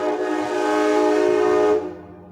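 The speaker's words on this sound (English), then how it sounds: "That's a real American train sound." A nearby American train sounds a loud, sustained horn blast for nearly two seconds before it cuts off abruptly, leaving a low rumble.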